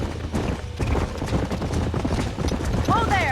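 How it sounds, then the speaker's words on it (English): Galloping hooves of wild horses in the Western video game Red Dead Redemption, a loud, close rhythmic clip-clop running throughout, with a brief whinny near the end. "There's the horses!"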